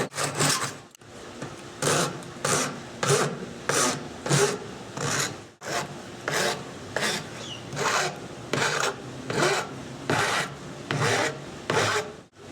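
River cane being cut just past the node, steady rhythmic rasping saw strokes back and forth, close and fairly loud, with two brief pauses and no voices.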